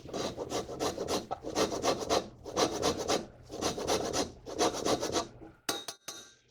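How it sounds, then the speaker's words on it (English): Orange rind zested against a rasp in five rhythmic bursts of close scraping strokes, each burst made of quick repeated rubs, followed by a few short taps, no talking. "This is actually a true zest of an orange, where you're just taking off the very top portion of it"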